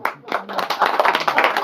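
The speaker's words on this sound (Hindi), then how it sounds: "ताली बजा के उनका हार्दिक स्वागत करें।" Audience in a residential colony applauding to welcome a retiree at his farewell gathering: dense, steady clapping from many hands, close and loud, running continuously without pause.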